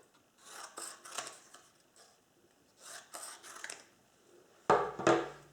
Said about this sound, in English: So again, I'm just going to cut a few strips off.